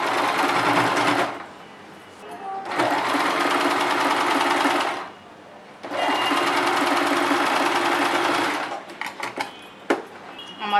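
Sewing machine stitching lace onto the neckline of a girl's dress, running in three long steady bursts with short pauses between, close and loud, ending with a few soft handling clicks.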